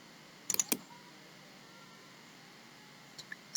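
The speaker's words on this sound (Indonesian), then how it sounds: "kemudian kita tekan kontrol dari keyboard, kemudian kita klik, kemudian kontrol lagi, klik, semuanya klik kiri." Computer keyboard keys and a mouse give a quick cluster of sharp clicks early on, then quiet room hiss, then a few more isolated clicks at the end.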